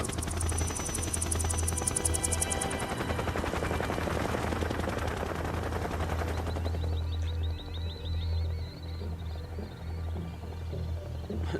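Rapid machine-gun bursts rattle alongside helicopter rotors in the video game Metal Gear Solid 3 Snake Eater, the firing dense for the first several seconds before easing into a steady rotor throb with sparse shots.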